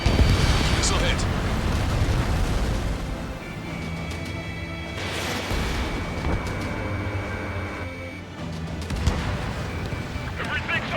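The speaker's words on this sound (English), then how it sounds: "Missile hit." Missile impacts and fiery explosions in the Ace Combat 7: Skies Unknown jet combat game, a dense sustained roar of booms and blasts with overlapping bursts, loud and continuous, with voices talking over it.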